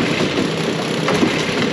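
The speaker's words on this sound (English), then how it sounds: "I will say backpack blowers typically don't like to start in the cold. It fired up though." Stihl BR600 backpack leaf blower running steadily after a cold-weather start outdoors, a loud continuous engine roar with no pauses and no talking.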